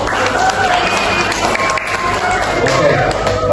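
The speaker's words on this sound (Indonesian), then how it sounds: "Tepuk tangan untuk kita semuanya." A seminar crowd applauds with steady clapping and some cheering, while voices and chatter carry through the noise for a few seconds.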